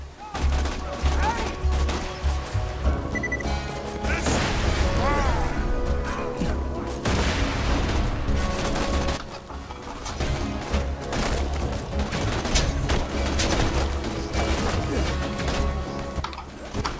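Gunfire in the video game Borderlands 2 during a co-op session, dense bursts of shots and crashes layered over game music and effects, continuing throughout the clip with occasional voices.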